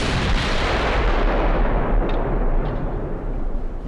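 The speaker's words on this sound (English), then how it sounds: "we can see the fire coming from the battleships" Naval gunfire from battleships in the game Ultimate Admiral: Dreadnoughts, heard as a loud, continuous rumbling roar of heavy guns that stays dense throughout with no clear gaps, and no talk.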